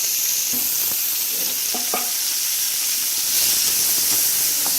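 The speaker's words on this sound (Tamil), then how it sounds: "அது வந்து ஒரு ப்ரௌன் கலர் வர மாதிரி வதக்கி எடுத்துருவோம்" Pirandai, or adamant creeper, sautés in a pan until brown, giving a steady sizzle and hiss with a few scattered clinks of stirring.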